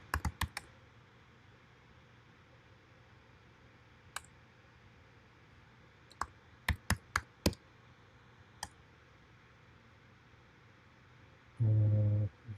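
Keys on a computer keyboard click in short, scattered bursts, a few quick taps at a time with pauses between, quiet and close, followed near the end by a brief dull rumble.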